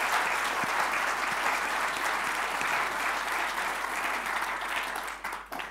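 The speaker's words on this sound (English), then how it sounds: "Can we give them a round of applause" A large audience at a forum breaks into a thick, continuous wash of applause that holds steady at full strength, then thins and fades in the final second.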